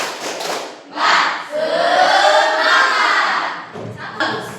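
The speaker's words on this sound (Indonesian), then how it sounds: "Kita tepuk semangat dulu ya." A school class does the rhythmic 'tepuk semangat' clap, bursts of group clapping and shouting close by, with a sustained loud stretch of voices and claps in the middle.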